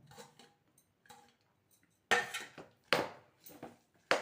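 Coriander leaves are stirred into bisibelabath in a pot with a ladle, giving several scraping clatters and knocks in irregular bursts, quiet at first and then louder, with no talking.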